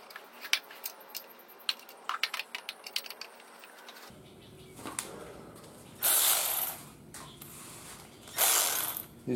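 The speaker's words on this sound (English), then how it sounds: "These ratchets come in nice." Hand ratchet wrench clicking in quick, close, irregular bursts of sharp ticks, followed later by two louder broadband rushes of noise, with no talking.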